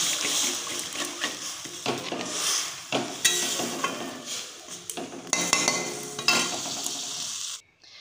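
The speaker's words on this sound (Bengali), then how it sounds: "দুধটাকে এটাকে ফ্রাই করতে হবে।" Milk fries in a pan with a bright, hissing sizzle broken by stirring scrapes and utensil knocks, loud and close, before cutting off abruptly at the end.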